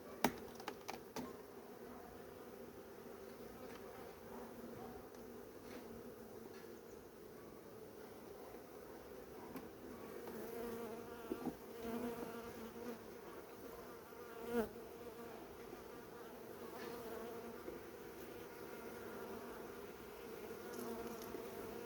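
Honeybees buzzing around a nucleus hive being reduced for winter, a soft continuous hum with faint clicks and handling noises, fairly quiet and steady throughout with no talk.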